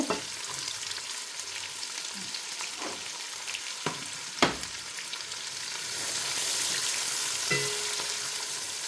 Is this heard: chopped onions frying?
yes